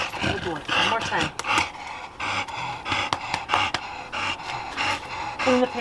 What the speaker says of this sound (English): And the panting again, that's the stress